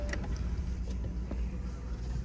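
Soft electric motor whir of a car's retractable dashboard screen lowering into the dash after the engine is switched off, a faint steady hum close by inside the cabin with a few light clicks.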